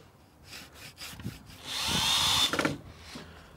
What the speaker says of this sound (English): See the ease of the cut and watch the rust being removed from the blade.